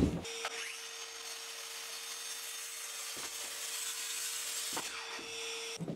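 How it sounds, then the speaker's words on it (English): Track saw cutting long wooden strips for a wooden tool chest, a steady loud whirring cut with short clicks and knocks as the blade starts and stops, heard alone. "lock them off with the track saw"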